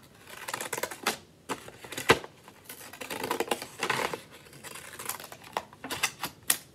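Crisp snipping of scissors cutting through paper, a run of quick uneven clicks and crunches, close and fairly quiet.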